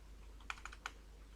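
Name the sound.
typing on a laptop keyboard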